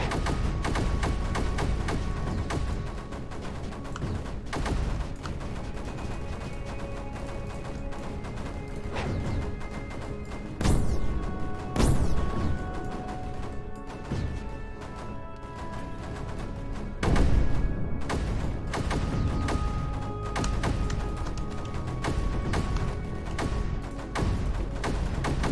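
Repeated mortar fire in the strategy video game Creeper World 4, dense overlapping thumps and booms over a constant loud mechanical game soundscape with tonal hums, no talking.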